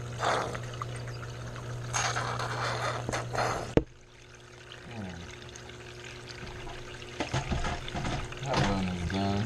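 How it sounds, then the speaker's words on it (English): Water is poured to wash gravel and material down a gold sluice outdoors, making a steady rushing and trickling sound throughout. It pauses briefly partway through and then splashes again, with a faint voice heard under it. "Wash it all down the sluice."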